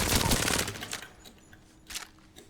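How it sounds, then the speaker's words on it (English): Rapid automatic gunfire from an enemy bot in Apex Legends, a loud burst of shots at the start that fades into scattered lighter cracks and a second brief burst near the end. "an enemy's shooting at me, I'll be like this"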